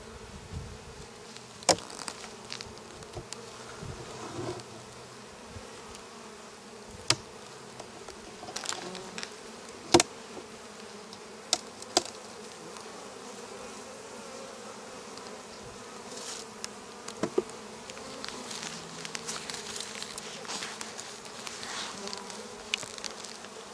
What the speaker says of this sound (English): These are actually buckfest bees. It's a breed out of Texas.